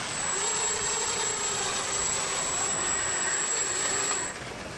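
Steady electric whine of a remote-controlled aircraft tug moving a plane at the Sun n Fun 2017 airshow, a continuous high tone over broad mechanical rumble, close and constant until it cuts off near the end.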